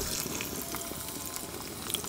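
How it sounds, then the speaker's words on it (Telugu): Constant crackling and spitting of mustard seeds popping in hot oil, a dense, steady sputter with no voices. "కొంచెం ఆవాలు, జీలకర్ర, ఎండుమిరపకాయలు, కరివేపాకు మాత్రం చిట్టపటలాడాలండి."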